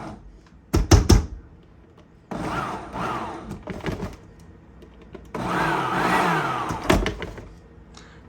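A kitchen blender pulses a batch of sweet cherries for cooked jelly, its motor whirring up in short bursts separated by pauses, with a few sharp knocks between pulses.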